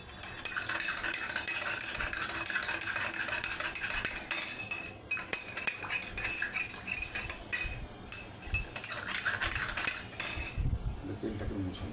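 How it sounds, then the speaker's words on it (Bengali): Two spoons stirred and clinking against a bowl of water mixed with dish soap, a busy run of close metallic taps and scrapes that lasts the whole time and eases near the end. "দুটোই আমরা নাড়বো, দুটোই আমরা দুটো চামচই নাড়বো।"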